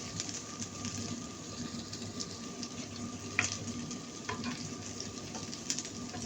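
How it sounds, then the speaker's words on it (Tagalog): Garlic and onions sautéing in a small pan, a steady close sizzle with faint stirring clicks and scrapes running throughout, no one speaking. "Igigasa na natin ang garlic, onions."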